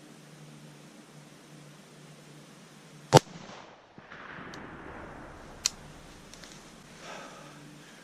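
A single sharp, loud crack of a 6.5 Grendel rifle fired at a deer outdoors, followed by faint rustling and a smaller click later.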